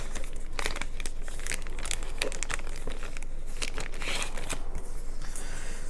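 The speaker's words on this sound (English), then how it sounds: "now we're going to open up the cards" A wrapped Warcry Catacombs card pack is torn and crinkled open close up, with continuous crackling plastic and paper rustle throughout and no talk.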